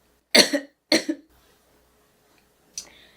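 Two sharp coughs in quick succession, then a pause and a softer third cough, close and clear against silence.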